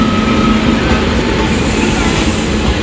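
The Dhauladhar Express rolls through a Delhi railway station, a loud, close, continuous rumble of wheels on rail with a faint squeal above it.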